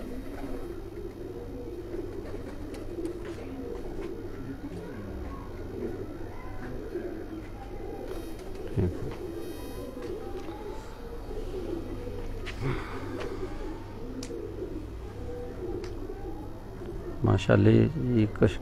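Soft, low Kasuri pigeon coos repeat over a steady outdoor background, with a brief flutter of wings near the end.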